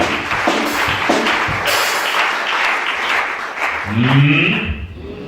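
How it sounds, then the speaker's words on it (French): A church congregation at a teaching service applauds and cheers with steady, dense clapping. Voices call out over it, and the noise thins at the end. "Acclame chacun."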